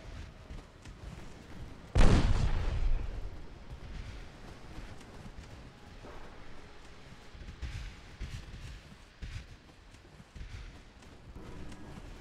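A naval gun firing in the Ultimate Admiral: Dreadnoughts video game, one loud booming blast followed by a rumbling decay, then fainter distant thuds over continuous sea and battle ambience.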